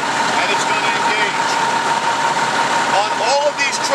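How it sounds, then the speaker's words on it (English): A fire aerial truck's diesel engine running at a steady idle, a constant low rumble with a faint whine, while a person talks over it close by. "The starter is going to go in, the glow plug is going to glow, and it's going to engage."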